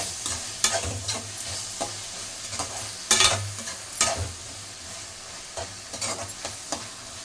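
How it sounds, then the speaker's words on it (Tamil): Onions sautéing with a spoonful of rock salt in a pan, a soft steady sizzle broken by scraping stirs and clattering spoon knocks at irregular intervals, close and alone. "இப்போ இந்த வெங்காயம் வதங்கிறதுக்கு உப்பு 1 ஸ்பூன் கல் உப்பு போட்டிருக்கேன்."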